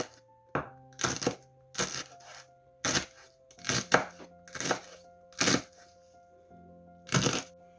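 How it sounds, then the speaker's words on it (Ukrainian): A kitchen knife chops parsley stems finely on a board in about nine crisp, irregular bursts of quick strokes, close and clear with quiet gaps between them. "А ось оці лопуцьки, я теж їх завжди подрібнюю"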